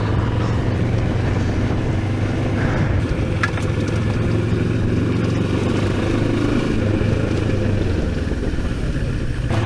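A Moto Morini X-Cape 700 motorcycle carrying two riders runs along a road with a steady engine drone and heavy wind rush throughout, close and continuous.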